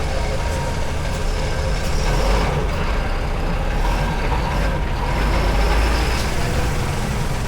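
A Mahindra Blazo X 28 M-Dura tipper truck drives steadily on the road, its loud, continuous diesel engine rumble and road noise filling the cab with no talk.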